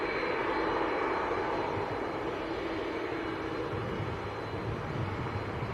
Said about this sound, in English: jet just departing further down the runway as well.